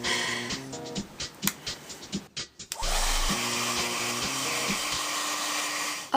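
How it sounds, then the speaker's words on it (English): A hair dryer on its cool setting dries latex on a prosthetic fake hand. After a few seconds of light clatter and handling, it starts up with a loud, steady, close blowing roar that runs to the end. "I'm just going to use a hairdryer to quickly dry it off"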